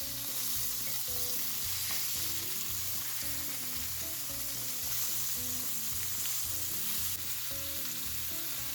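A burger patty fries in a skillet with a continuous bright, dense sizzle over a rhythmic music bed that plays throughout.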